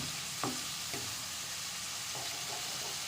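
Onions sautéing in a pan for katla fish kalia make a faint, steady sizzle, with a few soft stirring scrapes early on and no talking.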